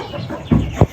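Two short, loud clucks from chickens close by, one right after the other, with no talking.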